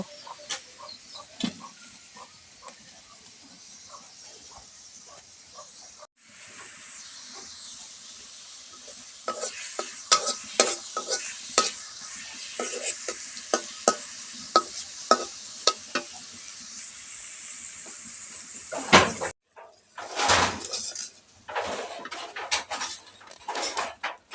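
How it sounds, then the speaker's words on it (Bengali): Pangas fish frying in spiced oil in a pan, a continuous hiss and sizzle with repeated spatula scrapes and taps as it is stirred, growing busier and louder midway, with a short clatter near the end. "তো এখন আমি পাঙ্গাস মাছটা রান্না করে নিব।"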